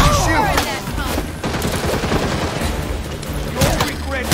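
Rapid gunfire bursts in the Gotham Knights video game, loud and close, with repeated shots and booms running continuously under in-game voices shouting.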